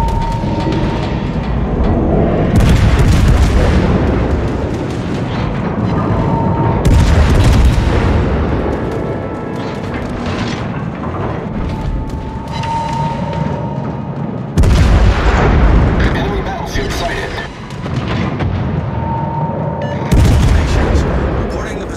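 Artillery strike in a military video game: repeated heavy booms roll in at intervals, each a loud broadband blast with a long rumbling tail, layered over continuous battle noise and game sound.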